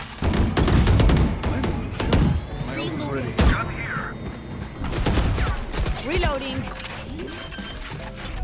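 Explosions and gunfire bursts in the video game Valorant, sharp loud bangs and thuds scattered through a busy match, with excited players talking over the action.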